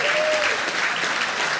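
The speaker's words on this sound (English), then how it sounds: "Let's give Addison another round of applause." A crowd at a mayors' summit claps steadily and enthusiastically for a fifth-grade performer, a dense, continuous burst of applause filling the room.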